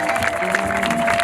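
Audience applause at a live choir concert, a steady dense wash of clapping with some crowd noise, loud and continuous throughout.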